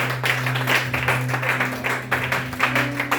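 A church congregation claps steadily and enthusiastically in a sustained round of applause, with a held organ or keyboard tone underneath.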